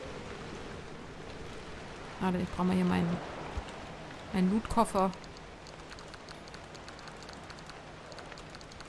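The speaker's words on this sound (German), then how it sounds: "Es regnet." Rain falls steadily in the driving game Pacific Drive, a continuous hiss that persists beneath someone speaking German in two short bursts.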